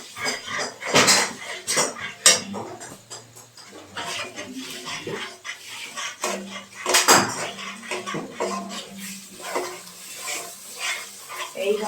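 Egg being poured into masala in a pan and stirred, with repeated sharp clinks and scrapes of a utensil against metal over a soft sizzle, close and uneven in rhythm.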